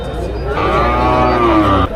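A cow lets out a single long, loud moo from close by at a cattle market, rising and holding before trailing off.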